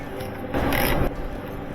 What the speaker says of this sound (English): when you turn this clockwise, it'll click and stop